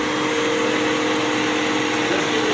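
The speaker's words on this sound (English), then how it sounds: "turn the other vacuum on and tilt it to the back." An upright vacuum cleaner runs steadily and loudly with a constant whine and rushing airflow, continuous throughout with no talk.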